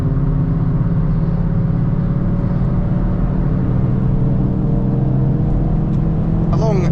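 A Hyundai i30 N or i20 N hot hatch pulls hard on the Nurburgring, its engine droning loud and steady from inside the cabin under constant road and wind roar.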